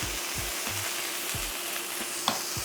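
Cheap beef steak searing in a hot pan, a dense, steady sizzle and crackle filling the whole moment at close range, with one small sharp tick.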